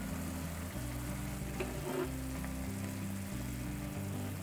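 Kimchi with pork stir-frying in a hot pan, a steady continuous sizzle with soft stirring scrapes, close and alone without talk.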